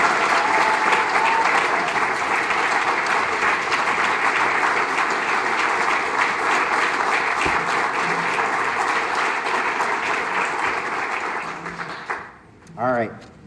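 Sustained, loud audience applause at a park district state-of-the-district address, a dense steady roar of clapping lasting about twelve seconds before cutting off as a speaker resumes talking.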